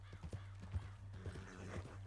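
Horse hooves clip-clop in Red Dead Redemption 2, a short burst of soft, close hoofbeats with a brief whinny-like tone over a low steady hum.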